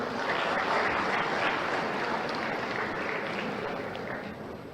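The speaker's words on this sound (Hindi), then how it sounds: "जोरदार तालियां हो जाएं।" Loud, sustained applause from a large audience at a district award ceremony as a collector is called up, a thick continuous roar of clapping that eases slightly toward the end.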